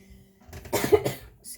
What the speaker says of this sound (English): at the time of recording, I'm still getting over a little bit of a cough